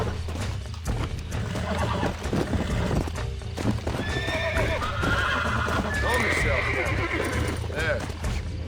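A stallion in Red Dead Redemption neighs and whinnies over clip-clopping hooves, close and loud, with a voice talking and game music running underneath.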